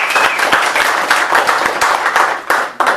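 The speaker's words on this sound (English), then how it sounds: "Please give Donnie a round of applause." An audience claps for an honoree at a ceremony. The close, fairly loud handclaps are distinct and uneven, and they form a brief, thin round of applause rather than a dense roar.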